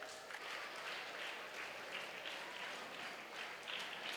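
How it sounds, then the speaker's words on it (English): Applause rises from an assembly welcoming dignitaries at a school feast celebration, a dense, even clapping from a large crowd lasting throughout, moderately distant and without talk. "Let's rise and welcome them with a round of applause."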